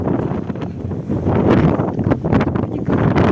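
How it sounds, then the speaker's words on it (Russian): Strong cold wind blasts through a night snowstorm, roaring steadily and loudly against the microphone with gusty surges and no voices. "Такой ветер, такой холод."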